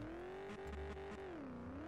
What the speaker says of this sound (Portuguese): Vamos dar aquela rezona monstruosa aqui, ó.